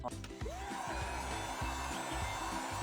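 A hair dryer blows steadily over a Valentine's craft plaque, a loud continuous whirring rush that holds from start to finish, with faint clicks and rattles underneath and no talking.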